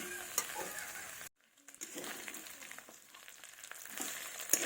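Mutton being stir-fried in a pan makes a quiet sizzle under repeated scraping strokes of a spoon against the pan, with a brief silent pause early on.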